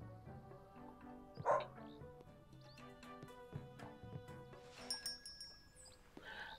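A dog in the video game Spirittea gives a short bark and some small yips over light, tinkling game music, fairly quiet and with no voices.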